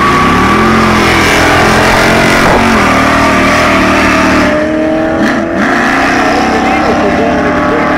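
A 1973 Buick GS and a Chevy Camaro Z28 roar off the line in a quarter-mile drag race, loud close engine howl fading as they pull away, with a commentator talking over it.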